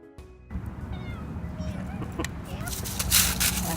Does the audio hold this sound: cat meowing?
yes